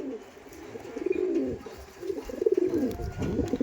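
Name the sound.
breeding pigeons cooing in a loft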